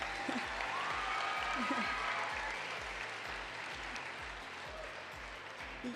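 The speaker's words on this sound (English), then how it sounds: "can we give him a little clap, please?" An audience at an FFA state leadership conference opening session claps for a state association board member, a broad wash of applause with a rhythmic low thumping and faint voices underneath.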